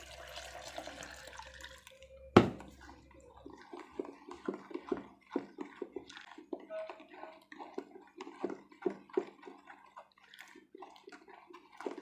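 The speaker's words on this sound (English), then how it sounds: "I'll add water in here first." Water is poured from a cup into a container while homemade Texapon liquid soap is being made. There is a brief splash, then quiet irregular trickling and dripping, faint and close.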